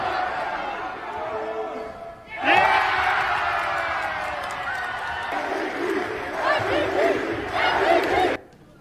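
An emotional crowd of school supporters at a high school basketball event roars and cheers loudly and continuously, with shouts and whoops rising after a brief lull and cutting off near the end.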